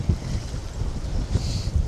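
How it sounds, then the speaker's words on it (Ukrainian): Gusty wind buffets the microphone at a feeder fishing championship final on open water, a steady rumbling roar with low thumps that rises and falls throughout, heard alone. "навіть вам буде чути цей вітер"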